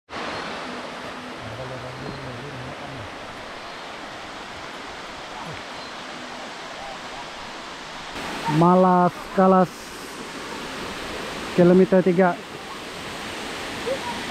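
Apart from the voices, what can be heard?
waterfall on a hiking trail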